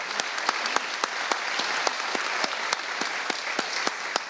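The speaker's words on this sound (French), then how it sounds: "Merci de les applaudir" An audience at a French comics festival applauds the tac au tac drawing artists with steady, moderately loud clapping. A few sharper individual claps stand out now and then.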